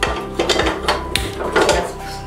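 Metal lid set onto a steaming pot of modak, a series of close clanks and scraping rattles of metal cookware in quick succession.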